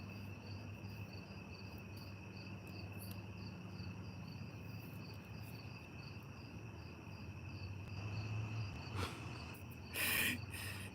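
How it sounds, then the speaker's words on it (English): Crickets chirping outdoors at night, a steady high-pitched trill held throughout, with a low hum beneath and a couple of brief louder rustles near the end, no talking. "the ambient outdoor sounds with the crickets and like the nighttime sounds"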